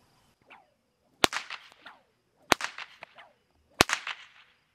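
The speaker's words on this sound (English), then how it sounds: "And this is the 6-foot stock whip." A 6-foot stock whip gives three loud, sharp cracks about a second and a quarter apart, each trailed by reverberant echoes, with a faint swish before the first.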